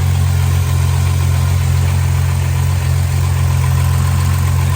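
A neglected skid car's engine idles steadily at operating temperature, a loud close low drone with a constant rumble and no speech.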